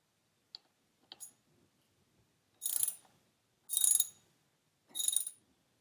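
Ratchet clicks from a socket wrench with a 5mm Allen head socket loosening the ABS speed sensor screw on a Royal Enfield Interceptor 650 front fork: two short ticks, then three louder bursts of rapid ratcheting, close and alone.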